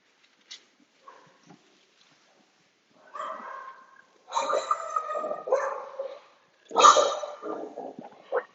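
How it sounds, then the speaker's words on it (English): A dog barks in short bursts of varying loudness, with yips and a whimpering edge, some fairly near and others softer, during a seated chair yoga session, with no talk over it. "Excuse the dog, I don't know what he's barking at."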